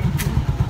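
A motorcycle engine idles close by, giving a steady low throbbing rumble with a brief clatter partway through.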